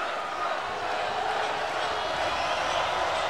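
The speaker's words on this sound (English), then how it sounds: "This crowd is as loud as any crowd that I have heard in recent memory." Sold-out college basketball arena crowd at a La Salle versus VCU game roaring loudly and continuously, a broad sustained din with no clear breaks.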